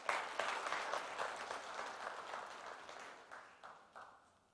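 A crowd at a crypto-themed gathering claps for its past chairmen: steady, dense applause that gradually thins and fades, with no talking.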